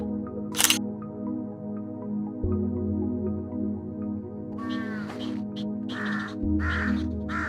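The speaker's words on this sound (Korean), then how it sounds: "까마귀들이" Crows caw several times in an abandoned, ruined village, loud and fairly close, with a steady low hum underneath and a sharp click early on, with no talking.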